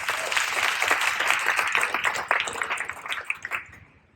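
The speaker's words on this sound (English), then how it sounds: "give the organizers a round of applause for lunch" A conference audience at a food and AI keynote claps for the organizers, the applause dense and loud at first, then thinning into scattered claps before fading out.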